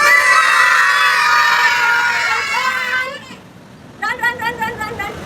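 Children loudly shriek and shout together in a practice drill at a safety workshop, a sustained crowd of young voices for about three seconds, then a pause and a burst of rhythmic repeated shouts.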